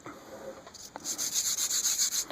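A vine or compressed charcoal stick is rubbed briskly in circles against a rough sanding pad, making a scratchy, rhythmic grinding that grows louder and steadier after a brief pause.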